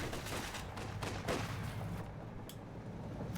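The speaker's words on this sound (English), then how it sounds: "It's nice to have the machine gun firing" Rapid gunfire in a competitive Gates of Hell-style strategy game match, machine gun bursts and scattered shots crackling in quick succession, moderately loud with a sharper crack near the middle.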